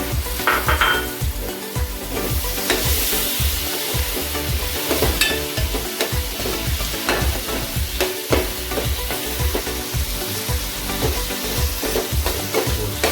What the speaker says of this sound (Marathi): हळद मसाला टाकला परत फ्राय करून घ्यायचं